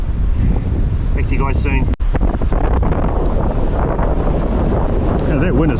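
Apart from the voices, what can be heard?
strong gale wind blowing on a beach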